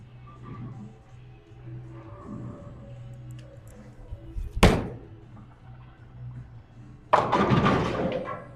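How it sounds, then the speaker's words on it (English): An aggressive bowling ball hits the pins at the end of the lane with a sharp crash, and a second broad clatter of pins follows a few seconds later, over low rumbling alley background with faint voices. "you can see I've thrown that aggressive ball."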